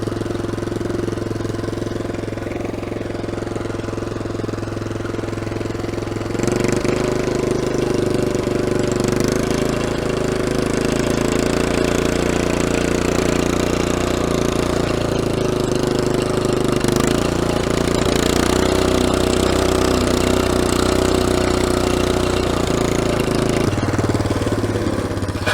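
A 65-year-old small tractor engine runs steadily and loudly nearby, a chugging, knocking mechanical drone that shifts pitch slightly as the throttle changes, with no talk over it.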